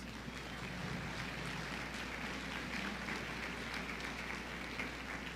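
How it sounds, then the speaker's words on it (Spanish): A church congregation applauds during a Spanish-language service, a faint, steady wash of clapping that sounds somewhat distant and carries on evenly with no voices over it. "Dale un aplauso al Rey de Reyes."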